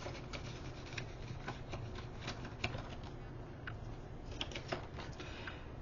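An index card and a $20 bill slipped into a paper cash envelope give close, soft rustling and papery scrapes with a few light taps, steady and quiet with no talking.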